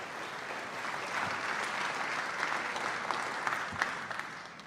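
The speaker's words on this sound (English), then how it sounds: "So give them a nice round of applause," Audience applause at a university athletics awards ceremony, steady moderate clapping from a crowd heard at a distance, fairly soft and sustained without voices over it.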